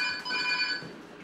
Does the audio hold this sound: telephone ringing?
yes